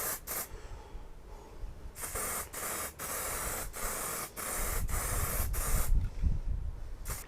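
An aerosol can sprays air filter oil onto a 2018 Honda Africa Twin air filter in repeated short hissing bursts separated by brief pauses, close and steady, with no talking.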